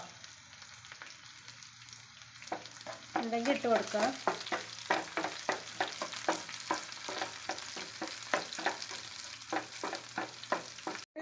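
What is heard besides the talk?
dried red chillies frying with onions in pan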